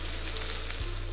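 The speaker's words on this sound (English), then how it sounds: "Listen to that sizzle." Steady, close sizzling of leftovers frying in a hot pan, a dense crackling hiss that carries on without a break.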